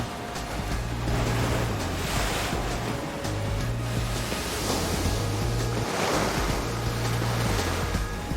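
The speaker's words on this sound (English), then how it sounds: "it overcomes the draining of the river and then bursts up in this single tide." Tidal bore surging up a river against its outflow, a steady loud rush of churning water and surf with wind noise across the microphone, continuous throughout with no voices.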